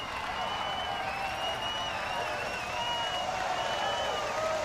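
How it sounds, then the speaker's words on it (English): Cheering and applause from a crowd in the Zwift video game, a steady wash of clapping and whistling voices played back at moderate volume with no breaks. "the cheering you're hearing is from Zwift"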